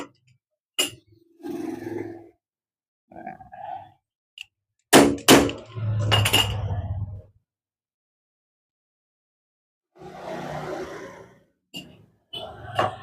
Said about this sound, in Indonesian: Ini berhubung bautnya udah selek, udah bulat, maka saya harus dilakukan penggetokan dulu.